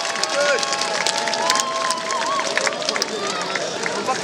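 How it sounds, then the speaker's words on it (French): A crowd at a cosplay event claps and cheers in a dense, continuous wash of applause, with whistles and voices mixed in. "applaudis bien fort, allez,"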